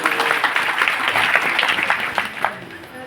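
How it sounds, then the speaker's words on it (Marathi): Audience applause at a village kirtan in Biri, Beed district, greeting a young boy musician, with broad, dense clapping that keeps up steadily for a few seconds and fills the space. "त्या लेकरासाठी एकदा टाळी वाजवा."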